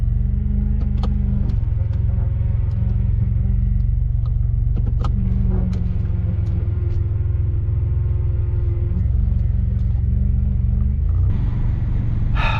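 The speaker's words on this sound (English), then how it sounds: "I got the car started." A car engine idles steadily just after being jump-started, a loud continuous low rumble close by with a few small clicks and a slight change in pitch near the end.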